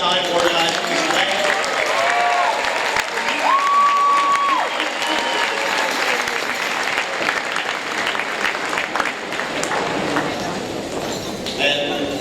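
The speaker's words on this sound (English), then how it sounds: "I'd like to get a special round of applause for Mr. Tim Light" An audience at a 2017 FRC robotics district event opening ceremony in Montgomery gives a sustained round of clapping, dense and fairly loud, with a few cheers and a short tonal sound near the start, fading slightly toward the end.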